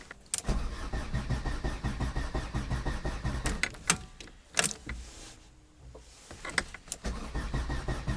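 A diesel Mercedes tractor cranks repeatedly without catching, with bursts of starter churning broken by clicks, knocks and short pauses, heard nearby and fairly quiet.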